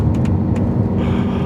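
Steady low rumble of a sports car's V12 engine cruising at about 30 mph on wet winter roads, heard from inside the cabin, continuous and fairly loud with a few faint clicks on top.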